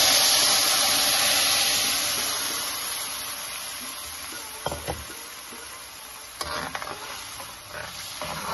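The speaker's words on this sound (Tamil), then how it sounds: "கடுகு ஒரு டீஸ்பூன் சேர்க்குறேன் அதில் கடுகு வெடிக்கும் போது" Hot oil sizzles and hisses steadily as mustard seeds are added, with a few sharp crackles and pops of spluttering seeds breaking through near the end.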